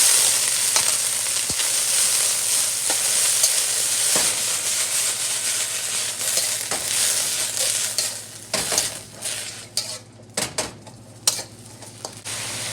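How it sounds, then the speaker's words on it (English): Loud, steady sizzling of bean sprouts frying in a hot wok, with scraping stirs and occasional clinks of a utensil against metal. "quickly add the beef sprouts into it."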